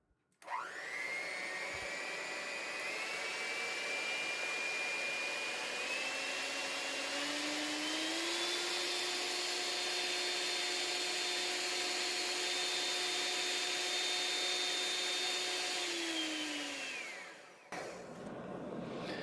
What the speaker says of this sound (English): We've got our little mixer plugged in. I'm going to put it on high.